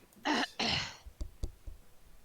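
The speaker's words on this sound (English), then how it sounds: "No, I just have a cough." Two short, harsh coughs close to the microphone, followed by a few faint knocks and shuffles.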